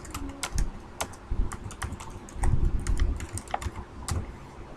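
A shop name is typed into an Excel spreadsheet on a computer keyboard: a steady run of crisp, close key taps in uneven bursts, with no talking.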